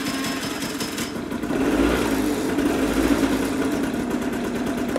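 A Piaggio TPH 125 two-stroke scooter engine runs steadily nearby, a continuous buzzing drone that swells slightly louder partway through, with no talk over it.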